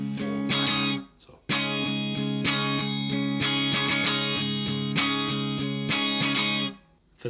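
Acoustic guitar strummed close up for a song, steady down strums with quick down-up sixteenth-note flicks, in two rhythmic bursts separated by short pauses where the strings are muted.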